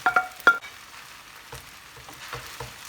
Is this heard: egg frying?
yes